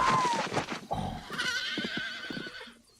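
A horse in the 1990 film Dances With Wolves lets out a loud whinny that rises and trembles, with hoof sounds and a brief voice nearby amid film sound.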